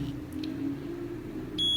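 A multimeter on continuity test gives a short, steady electronic beep near the end, following a low hum and faint earlier blips.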